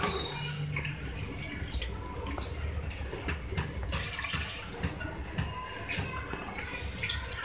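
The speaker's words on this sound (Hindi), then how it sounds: "और अब मैं इसमें वाटर ऐड करूँगी" Three cups of water poured into a pot of fried meat and yogurt masala for beef kofta curry, a steady splashing and gurgling pour heard alongside a voice.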